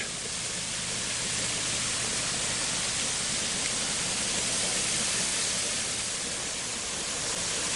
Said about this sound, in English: I'm going to walk right over here and take a look at this little creek.